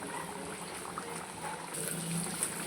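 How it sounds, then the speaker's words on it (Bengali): Fish curry gravy for dahi katla bubbles steadily in a pan, a soft continuous simmering hiss with small pops throughout, quiet and close. "এবার আমি এই গ্রেভিটাকে ফুটিয়ে নেব ভালো করে।"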